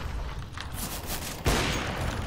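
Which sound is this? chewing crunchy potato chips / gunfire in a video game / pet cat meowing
gunfire in a video game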